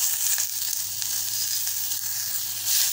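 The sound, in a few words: sautéing tamarind and green gram mixture in a pan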